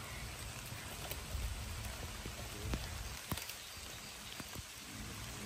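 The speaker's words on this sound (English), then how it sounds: "And that's the rain, everybody." Rain falling outdoors on a Portugal homestead near a tree and electrical cables, a steady broadband patter with scattered louder drops, fairly faint and continuous with no talking.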